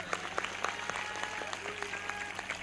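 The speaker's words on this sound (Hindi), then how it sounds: "इस भविष्यवाणी के पूरा होने के लिए जोरदार ताली बजाएंगे" A church congregation claps together, a quick run of distinct hand claps over a low hum, moderately distant and fairly faint.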